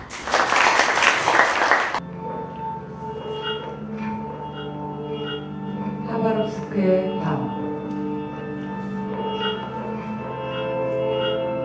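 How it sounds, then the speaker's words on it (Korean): An audience applauds at the start of a literary reading performance, a short burst of clapping that fades within a couple of seconds, followed by soft sustained instrumental tones in a reverberant hall. "박수로 부탁드립니다"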